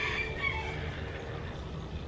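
A rooster crows faintly in the distance against a quiet outdoor background with a little wind.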